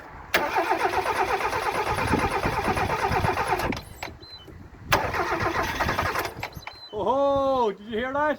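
A Mazda MX-5 engine, abandoned for 13 years, cranks hard for several seconds, pauses, cranks again, then briefly catches and fires on starting fluid with a rough rising-and-falling roar before dying off.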